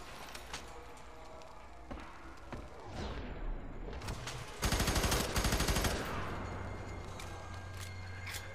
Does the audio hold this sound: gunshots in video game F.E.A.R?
yes